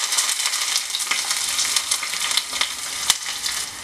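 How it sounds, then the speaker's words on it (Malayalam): Garlic and small shallots frying in hot ghee with popped mustard seeds for a Kerala green gram curry tempering, a steady close sizzle with crackling pops throughout. "അതിലേക്ക് 2-3 വെളുത്തുള്ളി, 4-5 ചെറിയ ഉള്ളി ഇട്ട് മൂപ്പിച്ചെടുക്കാം."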